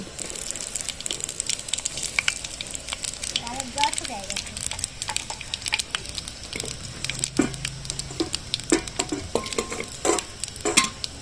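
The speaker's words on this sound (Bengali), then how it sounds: "এবার এর মধ্যে 5 ফোড়ন, টমেটো, কাঁচা লঙ্কা ফোড়ন দেব।" Panch phoron spices, tomato and green chilli sizzling in hot oil for a pabda fish curry, with steady crackling fry and scraping stir strokes, sharp pops breaking through toward the end.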